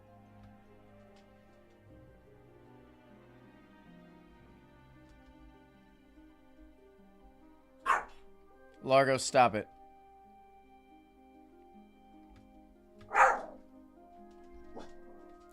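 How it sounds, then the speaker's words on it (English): A dog named Largo barks in a few sharp outbursts, a single bark followed by a quick cluster and then another lone bark, moderately close, with a person talking over the quiet stretches between them. "It's just a dog."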